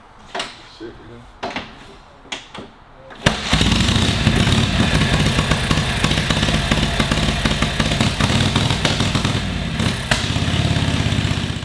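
A Harley-Davidson WLA engine bursts into a loud, steady running rumble after a few sharp knocks and clunks. The close, busy sound continues to the end, while a person speaks over it.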